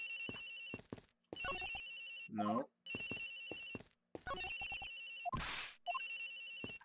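A phone rings repeatedly in the video game Miles Edgeworth Investigations, a regular electronic trill in bursts with short gaps, broken up by game text blips and a brief voice.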